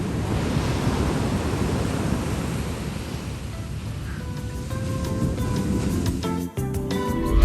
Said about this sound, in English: one final morning swim in the crazy waves of Cabbage Beach